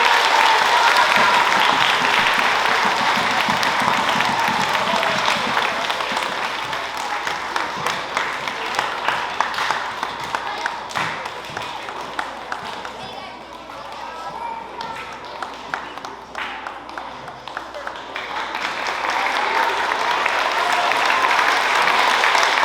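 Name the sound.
audience applause for fourth grade dancers at a school concert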